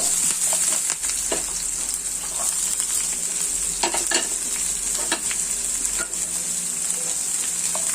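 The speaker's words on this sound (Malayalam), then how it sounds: "ഇനി നമുക്ക് പച്ചമുളകും കറിവേപ്പിലയും കൂടെ ഒന്ന് കടുക് ഒന്ന് പൊട്ടിക്കാം" Mustard seeds crackling and popping in hot oil with green chili and curry leaves in a pan, a loud continuous sizzle dotted with sharp pops and stirring scrapes, close up and without talk.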